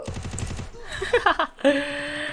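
Rapid automatic gunfire in the battle-royale shooter Free Fire, a quick string of close, evenly spaced shots followed by a few separate bursts and a sustained ringing tone.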